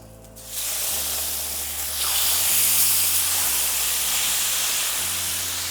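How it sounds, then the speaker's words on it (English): Carne asada meat hits a hot skillet and sears with a sudden loud hiss that swells and holds steady, a broad close sizzle with faint low hum underneath and no talking. "And now we're just going to cook the other piece of our meat."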